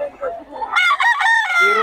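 A Nelson Black bloodline gamecock crows nearby, one loud, ringing cock-a-doodle-doo after a few softer lead-in notes.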